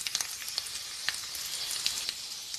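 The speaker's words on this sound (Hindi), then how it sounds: "और इसमें हम क्यूमिन सीड डाल देंगे। अभी हमारा गरम हो गया है" Cumin seeds frying in a pan that is already hot, giving a steady, close, broadband sizzle with a few brief crackles and pops scattered through it. No one speaks.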